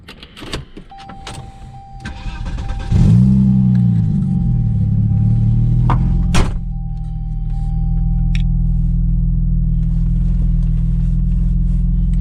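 A Volvo 960 starts up and pulls away: a brief whirring power window near the start, then a steady low engine hum and road rumble that carries on to the end, with no talking.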